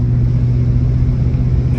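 A 1960 Cadillac Coupe de Ville V8 rumbles steadily as it pulls away, a loud, close, continuous low engine drone with no talking.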